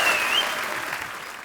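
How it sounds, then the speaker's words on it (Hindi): A studio audience on a TV comedy show claps steadily, a dense wash of applause that fades slightly toward the end. "जोरदार तालियां ऋचा जी के लिए"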